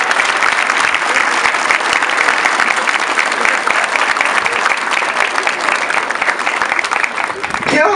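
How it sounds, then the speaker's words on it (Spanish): A crowd at a municipal mayor's speech applauds an honoree with loud, dense, steady clapping that runs without a break throughout. "Por favor, el aplauso correspondiente para él."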